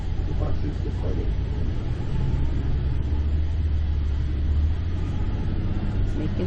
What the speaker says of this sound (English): The bus is departing.